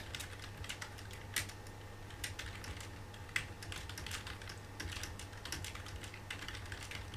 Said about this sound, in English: I'll just type it here